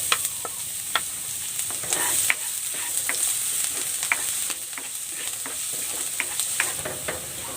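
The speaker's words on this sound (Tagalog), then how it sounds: "Igigisa ko na tong bawang" Garlic sautéing in hot cooking oil, a steady close sizzle broken by frequent sharp scrapes and clicks of a spatula stirring the pan, with no talking.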